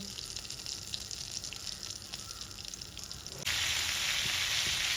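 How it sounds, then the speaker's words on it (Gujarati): Butter and oil heat in a pan, starting as a quiet crackle and jumping abruptly into a loud, steady sizzle for the last seconds, close up with no talking. "થોડી આપણે બટર અને તેલની ક્વોન્ટિટી થોડી વધારે રાખીશું। હવે એને આપણે ગરમ થવા દઈએ।"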